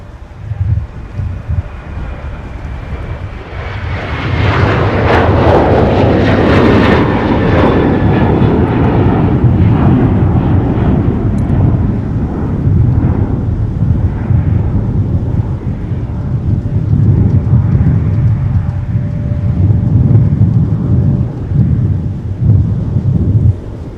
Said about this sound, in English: As you can probably tell, the wind today is certainly playing a factor.